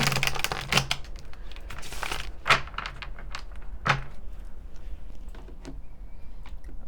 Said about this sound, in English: So give this one more shuffle.